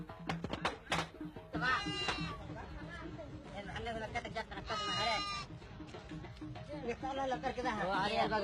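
Goats and sheep bleating at a crowded outdoor slaughter gathering in Yemen, several bursts of close, wavering cries mixed with steady crowd chatter and talk.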